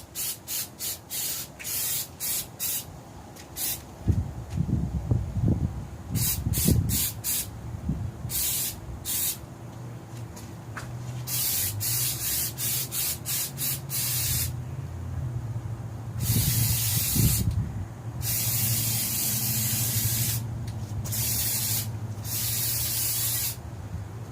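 Repeated bursts of hissing spray paint from an aerosol can, some short and some sustained, with soft rubbing and handling noises underneath, while painting a step van heater.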